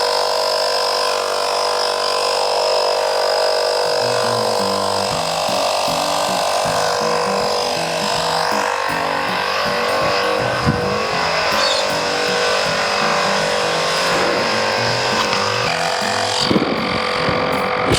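An Adventure Kings 12 volt air compressor plugged into a car runs continuously, a steady loud motor whine with a rapid pulsing piston chug throughout, no talk.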